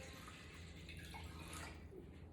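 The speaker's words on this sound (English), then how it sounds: "I'm going to go ahead and add the rest of this water" Water poured into a pot holding ham hocks for red beans and rice, a steady close splashing wash that runs without a break from start to finish.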